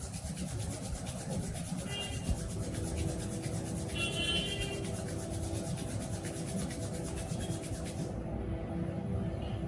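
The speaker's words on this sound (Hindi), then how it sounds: "फिर 1-2 बार और कर लें, इस तरह दोनों हाथों को रगड़ लें।" Palms rubbed together to warm them during a yoga session, a continuous dry rasping friction sound, close and fairly even, ending abruptly near the end.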